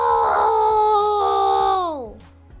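A dog in the Roblox video game howls in a long, clear, drawn-out wail that bends downward and fades at the end.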